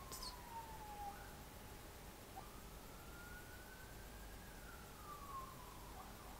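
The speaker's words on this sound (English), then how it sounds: "Sirens." A faint siren wails in the distance, its pitch slowly rising and falling over a steady background hiss.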